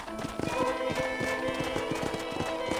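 Rhythmic hoofbeats of a galloping horse in the video game Red Dead Redemption, steady and fairly close, repeating evenly over a bed of background music.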